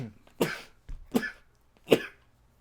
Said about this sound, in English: I might have to sneeze.